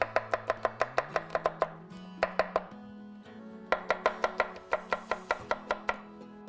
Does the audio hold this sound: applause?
no